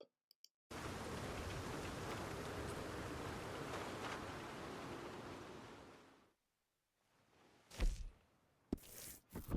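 Steady hissing rainfall in the game Red Dead Redemption 2 pours for several seconds, then stops abruptly, followed by a few brief thumps and rustles.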